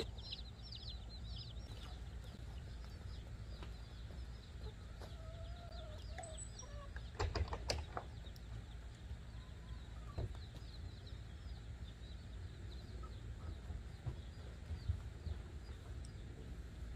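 Young Cornish game hens clucking softly in a brooder, a steady low chatter of small birds with a few brief louder peeps and a sharp knock, continuous throughout, no talking.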